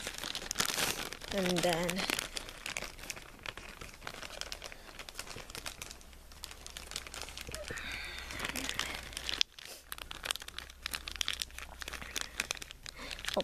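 Plastic wrapping crinkles and tears close by as it is pulled off a One Piece Luffy figure, in irregular bursts of crumpling, with a person talking briefly over it.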